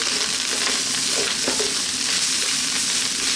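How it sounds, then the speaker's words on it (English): Rice sizzles and crackles steadily in a hot pan while making broccoli fried rice, a constant close frying hiss with no voices. "So you can hear that, yeah? That's the rice frying."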